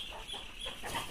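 Chickens cluck on a rural farm while a dog chases them. Short, agitated clucks sound over a noisy, hissy background at moderate distance.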